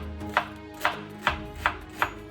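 Knife chopping onions on a board, five evenly spaced sharp chops about half a second apart, close and clear with no talk.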